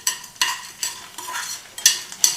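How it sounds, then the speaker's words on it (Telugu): Fresh grated coconut dry-roasting in a pan, with rhythmic stirring sweeps about twice a second over a light sizzle, close and fairly loud, ending in a couple of sharper scrapes. "దోరగా వేయించుకోవాలి"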